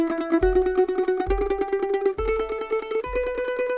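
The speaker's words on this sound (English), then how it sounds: "This the 30-second note tremolo." Mandolin plays a rapid thirty-second-note tremolo on sustained notes, stepping through a few pitches with a soft thump at each change, close and clear with no talking.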